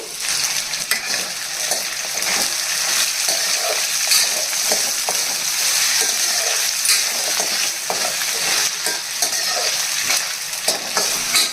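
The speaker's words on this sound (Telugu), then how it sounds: "అల్లం ముక్కలు చక్కగా వేగిపోయినాయండి." Ginger pieces fry in a pan for a ginger pickle. A steady, close sizzle continues throughout, with repeated scraping and clinking as the pieces are stirred.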